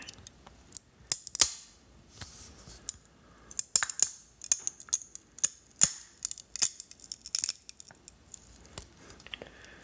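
Irregular sharp cracks and crunches of coffee beans being crushed in a garlic press, some in quick clusters, with metallic creaks in between.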